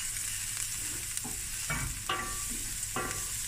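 Onions seasoned with salt and black pepper sizzle in a pan while being stirred, a steady frying hiss under a few soft scraping strokes of the utensil, close and with no talking.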